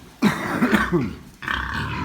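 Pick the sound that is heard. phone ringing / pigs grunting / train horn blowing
pigs grunting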